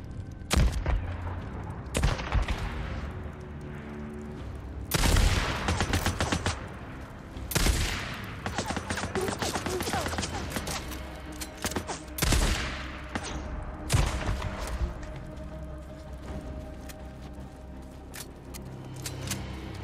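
Sniper and gunfire in the Days Gone video game come as repeated loud, sharp cracks and bursts, some in rapid clusters, over a continuous rumbling game background with no talk.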